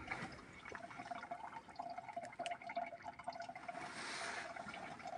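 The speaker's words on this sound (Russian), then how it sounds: "Вторая армия мира фильтрует воду из луж через салфетки перед тем, как ее пить." Water from a puddle dripping and trickling through wet wipes, a soft continuous liquid trickle with small drip sounds, steady and fairly close.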